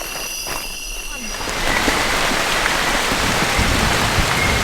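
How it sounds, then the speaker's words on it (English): Rain falling in a tropical forest on Waigeo, a dense steady hiss of drops on leaves that swells louder after the first seconds and continues alone. "So we are obviously getting rained on"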